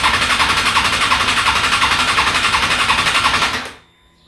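Suzuki Bandit 650 S motorcycle engine during a compression test, turning over in a fast, steady, even pulsing for about three and a half seconds before cutting off abruptly, loud and close.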